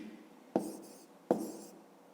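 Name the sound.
writing a math solution by hand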